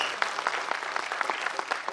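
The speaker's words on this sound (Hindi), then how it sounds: "इनके लिए सर जोरदार जोरदार तालियों की गूंज" A live audience claps for nine musicians at a singing competition finale, steady dense applause at moderate volume throughout.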